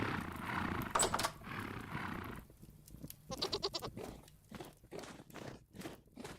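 Goats bleat in the Vintage Story game world, a few calls standing out over a steady background, with soft footstep-like thuds and rhythmic knocks following.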